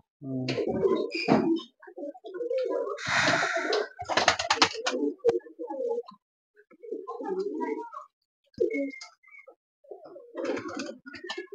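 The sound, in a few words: pigeons cooing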